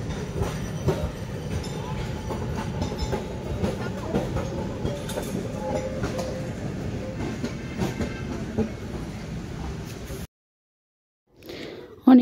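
A Kolkata tram running along its rails, a steady rumbling roll with rhythmic wheel clacks heard from onboard, before cutting out abruptly near the end.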